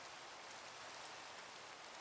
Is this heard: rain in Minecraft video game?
yes